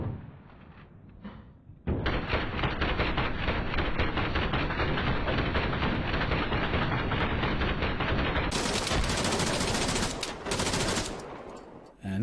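Video game gunfire from a picked-up enemy gun, a long sustained burst of rapid loud shots that runs for about ten seconds, preceded by quieter movement sounds.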